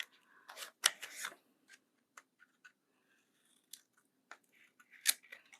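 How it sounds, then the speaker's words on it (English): Scissors snip curved corners from a folded junk mail envelope in short, crisp bursts, a few quick close cuts followed by scattered paper rustles and one more sharp snip near the end. "I'm gonna cut those corners like in a curve"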